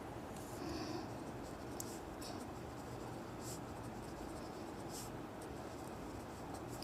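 An equation being written on paper: faint, continuous scratchy pen strokes with small taps, close and very quiet, with no talk.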